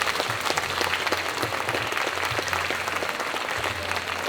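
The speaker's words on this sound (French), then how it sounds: "je vous invite à l'applaudir très fort" Sustained, dense applause from a crowd at a game show cosplay parade, honouring the audience-favourite costume contest winner, loud and even throughout.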